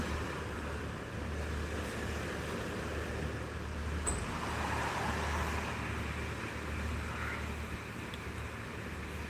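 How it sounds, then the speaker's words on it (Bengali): Rough sea off Cox's Bazar whipped up by a low-pressure system in rain, a steady broad roar of surf with waves rolling in one after another, continuous and fairly loud with no clear breaks. "আর একটার পর একটা ঢেউ আসতেছে"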